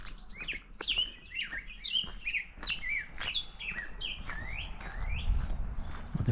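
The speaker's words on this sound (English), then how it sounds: "the birds are out" Birds chirp and tweet in a quick, overlapping series of bright calls at a campground on the South Rim of Black Canyon of the Gunnison National Park, fairly close, over a low outdoor rumble.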